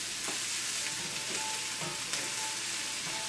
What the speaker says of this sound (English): Get the garlic nice and mixed in.